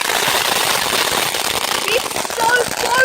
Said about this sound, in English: Oh, other people doing fireworks?